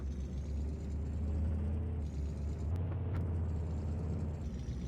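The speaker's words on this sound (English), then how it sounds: "Let's go get our seed truck here." Steady low engine rumble of a seed truck driving in the Farming Simulator video game, a continuous droning hum with no voices.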